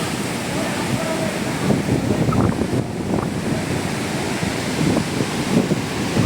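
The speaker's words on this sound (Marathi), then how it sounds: "तर अशा उंच लाटा उसळायला लागल्यात मित्रांनो" Rough sea at Ganpatipule sends high waves crashing against a broken structure, a loud continuous roar with surging bursts and heavy wind buffeting the microphone.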